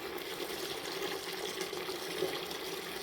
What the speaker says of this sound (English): I'm going to let the water out of the standard, the orange one